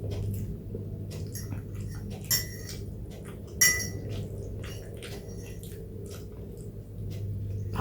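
Close-up eating of a double portion of Indomie Goreng fried instant noodles: soft chewing and slurping with intermittent clinks of cutlery against a dish, a couple of sharper knocks standing out.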